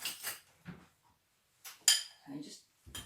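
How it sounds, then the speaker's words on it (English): A spoon stirs cinnamon and seasonings into roasted beetroot in a dish, giving a few separate clinks and scrapes against the dish with quiet pauses between, one brighter clink standing out near the middle. "stir those seasonings in"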